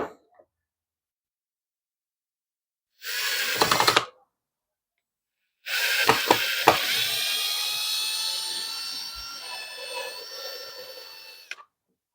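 A power drill boring mounting holes into wood, in two separate bursts: a short whine first, then a longer steady whirring run as the bit bites through the wood, close and alone with no talking.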